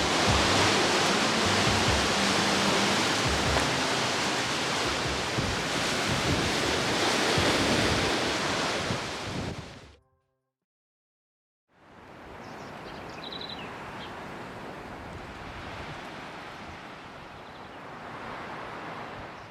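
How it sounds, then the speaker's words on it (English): Strong gusting wind roars across an outdoor camping spot in a broad, loud rush, cuts to silence for a couple of seconds, then comes back slightly softer and keeps blowing. "The wind is insane, like really hard."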